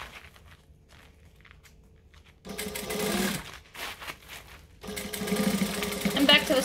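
A domestic sewing machine runs in bursts while back stitching fabric: a quiet pause, then a loud whirring run, a brief stop, and a second sustained run, close up and alone.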